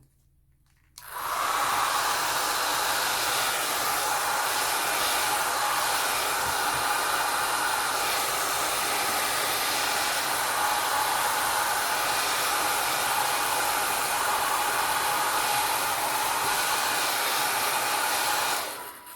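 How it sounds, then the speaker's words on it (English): A blow dryer switches on and runs with a steady, loud whooshing roar for nearly twenty seconds before cutting off. "let's bring out our blow dryer and see what we get"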